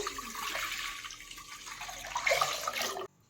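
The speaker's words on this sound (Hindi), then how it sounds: "अब टोपिये में डाल देते हैं दूध।" Milk pours into a pot that already holds a little water for making rasgulla, giving a close, continuous liquid splashing stream that swells near the end and then stops abruptly, with no talking.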